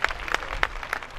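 A church crusade congregation in Lomé claps and cheers, a dense wash of applause with a few sharper bursts, steady and moderately close for about a second.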